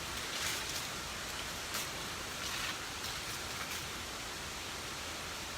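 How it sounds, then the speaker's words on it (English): A large indoor waterfall rushes inside the Climatron greenhouse, heard from near its top as a steady, loud, broadband roar of falling water, with no talk. "just about on top of the big waterfall."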